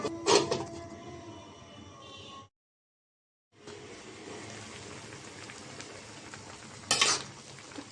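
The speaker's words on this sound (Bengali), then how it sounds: "কচুর তরকারিটা বলক এসেছে" Taro and taro greens curry with small shrimp simmering in a covered pot, giving a steady bubbling, sizzling hiss with a brief stir or lid clatter at the start and near the end, broken by a short silent gap.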